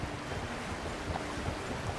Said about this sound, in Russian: прям сейчас ветруган очень лютый